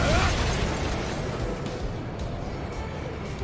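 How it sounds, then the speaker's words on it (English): A Long Tom cannon fires in the mech game Daemon X Machina, giving a loud, heavy blast with a rumbling decay that slowly fades over several seconds. No talk is heard. "That is a long tom cannon from fucking Mech Commander."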